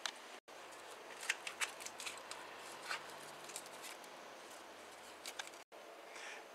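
Aluminium foil crinkling and tape being wrapped around fuel lines on a Porsche 944, heard close up as scattered soft crackles and rustles over a steady background hiss.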